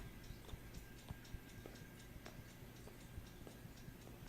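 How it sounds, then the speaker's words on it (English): A clock ticks steadily in a quiet room inside the Kentucky Route Zero game, each faint, even tick repeating at a regular pace with no talk over it. "You guys can hear my clock"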